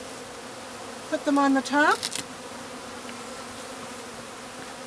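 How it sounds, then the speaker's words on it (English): Honeybees from a newly installed package buzz briefly and close by near a beehive, a short loud whine over steady outdoor background noise, with a voice speaking quietly around it. "any bees that didn't come out of the package or any bees that are on the ground"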